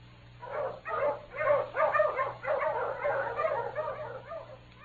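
A dog in a Yukon wilderness radio adventure barks and yips in a rapid, excited string for several seconds, loud and close, with thin, old-broadcast tone and no talking.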